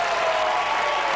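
Studio audience applause on a game show, a brief, even burst of dense clapping at steady loudness, with no voices over it.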